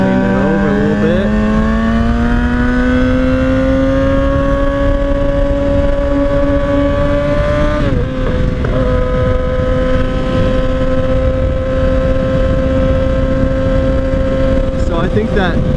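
An Indian Scout 60 motorcycle on its first ride drones steadily and loudly, its engine note climbing gradually, dipping briefly as the throttle eases, then holding, all over constant rushing wind.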